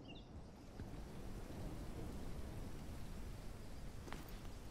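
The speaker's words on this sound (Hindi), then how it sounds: "ये फिर बारिश आने लग गई।" Rain and thunder in the video game Mountain Life Simulator: a dense, steady hiss of rainfall with a low rumbling undertone throughout, fairly loud and continuous, with a faint brief tone near the start and no speech.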